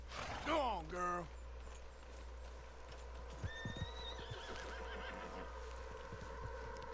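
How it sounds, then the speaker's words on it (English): A horse in the Red Dead Redemption 2 video game gives a loud, close whinny, then its hooves clip-clop at a steady walk beneath a faint ambient hum. "What's wrong with this horse?"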